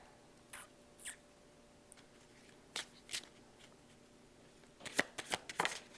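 Oracle cards being shuffled and drawn by hand: a handful of soft, scattered riffles and slaps, quiet and close, with a denser cluster of card snaps near the end, no talking.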